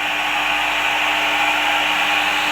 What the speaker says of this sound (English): next I will switch on this motor.